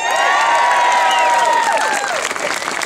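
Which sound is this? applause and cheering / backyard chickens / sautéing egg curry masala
applause and cheering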